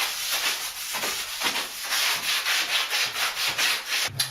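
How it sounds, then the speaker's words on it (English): Rubbing sealer by hand into the grout lines of a bathroom floor tile, a steady back-and-forth scrubbing swish repeating roughly every half second, close and alone. "You really want to rub that sealer in till you know it's penetrating into that grout."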